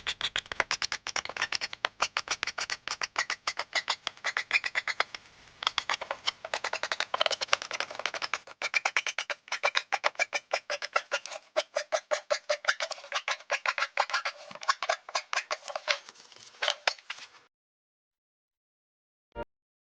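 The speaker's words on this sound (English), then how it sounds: "A little filing with the rasp will remove all the rough edges." Dense, rapid rasping strokes of a wood rasp filing rough edges on a birdhouse piece, scratchy and close, continuing for about seventeen seconds before stopping, followed by silence and one faint tap.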